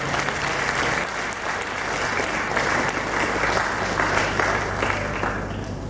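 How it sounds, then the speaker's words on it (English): Audience applause for a conference panel: a dense, steady round of clapping from a large crowd that holds at an even loudness throughout, with little talk over it. "I would like us to give this panel a warm round of applause for their contribution"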